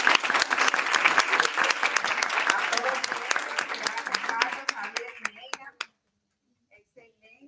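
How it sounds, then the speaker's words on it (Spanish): An audience at a panel discussion claps loudly for several seconds, the applause thinning out into a few scattered claps before stopping. "Un aplauso a nuestros amigos."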